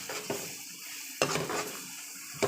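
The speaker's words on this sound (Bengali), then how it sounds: "রসুন বাটা দিয়ে দিলাম, হলুদ গুঁড়ো, মরিচ গুঁড়ো, মশলা গুঁড়ো সবগুলো দিয়ে দিব। ভালো মতো কষিয়ে নেব এগুলো।" Garlic paste with turmeric, chili and mixed spice powders frying in a pan, with a soft steady sizzle and a few sharp scrapes and clinks of a spoon stirring against the pot.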